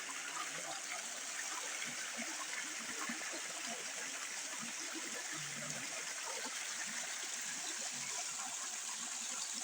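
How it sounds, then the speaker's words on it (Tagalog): Steady rushing creek water, a constant broad wash of flowing sound close by, with no pauses throughout. "Ganda ng sapa dito."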